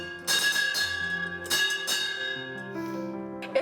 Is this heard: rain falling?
no